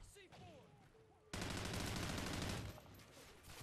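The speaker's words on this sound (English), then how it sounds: "Where did I just get shot from?" A burst of rapid gunfire in a video game hits loud at about a third of the way in and lasts roughly a second, with quieter game sounds before and after.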